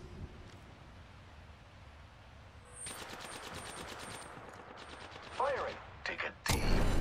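Bursts of automatic gunfire in the Apex Legends video game, a rapid rattling volley starting partway through, followed by a few shorter sharp bursts and a loud final report.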